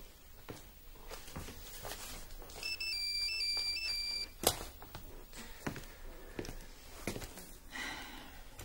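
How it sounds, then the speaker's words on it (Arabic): A bright electronic phone ringtone plays a repeating melodic pattern for a couple of seconds amid quiet room sounds, followed by a sharp click. "ممكن ارد على التليفون؟ رد على التليفون."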